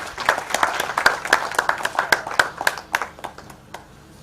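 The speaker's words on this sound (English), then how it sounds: "Please, a big clap for her as she joins the podium." Audience at a conference hall applauding as a speaker steps up to the podium, a modest round of individual hand claps at close range that thins out and fades toward the end.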